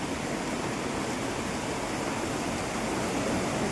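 Heavy rain pours steadily outside a balcony with floodwater collecting below, a dense, continuous broadband wash that stays loud and even throughout with no breaks or voices.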